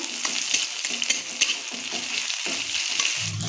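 Bay leaf and chopped ginger frying in oil and ghee, a continuous close sizzle with light stirring taps and clinks throughout, and no talking.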